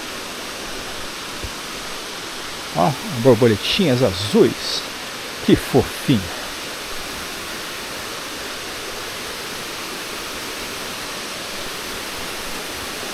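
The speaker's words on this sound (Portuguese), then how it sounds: "Estamos chegando já ao pé de uma das mais belas quedas d'água." Waterfall roaring as a steady, loud broadband wash at the foot of the falls on a nature trail in Canela, continuing throughout while someone speaks briefly over it.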